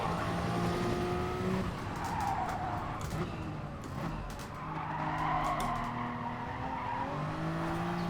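Race cars in GT Sport sliding through a GR3 race at Bathurst, with continuous engine roar, rising and falling gear whines and repeated tire skids and squeals, loud and close throughout.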